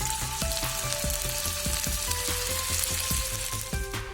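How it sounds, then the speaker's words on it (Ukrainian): Sausages frying in a pan make a loud, continuous close-up sizzle with regular light taps of a utensil against the pan. "Ковбаски обсмажили."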